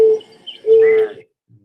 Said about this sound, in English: So this is the mourning dove again.